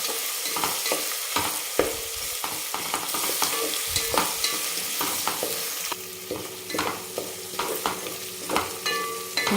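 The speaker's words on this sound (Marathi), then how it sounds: "नंतर एक मध्यम आकाराचा कांदा असा जाडसरच कापून घेतला आहे, तो टाकू आपण आणि ह्याला पण परतून घ्यायचं." Thick-cut onion pieces sauté in a pan, giving a loud, steady sizzle under repeated close scrapes and knocks of a stirring spoon.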